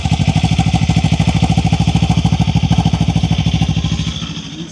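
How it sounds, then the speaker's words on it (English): Kawasaki Ninja 500 motorcycle idling through its stock exhaust, a close, loud, steady rapid thumping pulse with a low rumble that fades slightly at the end. "Y'all hear the stock exhaust?"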